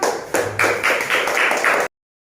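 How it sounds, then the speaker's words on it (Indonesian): A short burst of clapping from a small classroom group, several quick claps that stop abruptly after about two seconds. "tepuk tangan"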